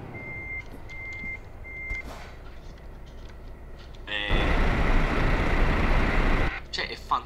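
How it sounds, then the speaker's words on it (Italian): In Euro Truck Simulator 2, a truck reversing alarm beeps three times at an even pace under a voice, then a loud rushing engine or air noise swells and covers the scene. "Grande retromarcia. Vai con la retromarcia,"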